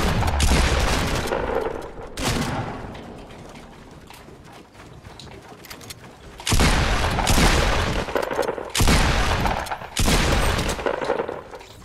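Loud, heavy Fortnite gunfire and booms from a sniper shooting at the player: several bursts spread over a dozen seconds, with quieter stretches between them.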